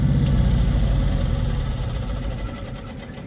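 Cushman Truckster engine restarting after a carburetor swap, then settling into a steady low, throbbing idle that fades slightly toward the end, heard close with no talking.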